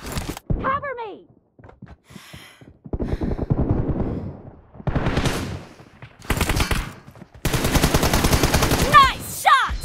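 Bursts of gunfire from a shooter video game, rapid automatic volleys and single shots in clusters, loud and close, with game voice callouts between.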